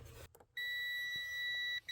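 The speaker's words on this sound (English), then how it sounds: "You hear the beep and it lights up." A multimeter's continuity test gives a steady electronic beep with two clear high tones, holding for over a second, briefly cutting out, then resuming, preceded by a few faint clicks, while testing a BMW 335 fuse.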